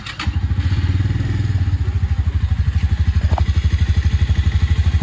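A 2017 motorcycle with its original exhaust idling during a sound test, a loud, close, steady low thumping beat with a brief rev partway through.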